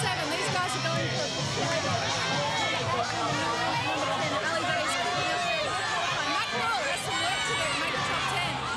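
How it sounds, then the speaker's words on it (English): A large crowd at a Nutri-Grain ironman surf race roars steadily, with a dense wash of cheering and babble that stays loud and unbroken throughout. "The crowd just drowning her out there a bit"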